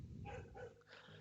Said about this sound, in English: you might hear my dogs in the background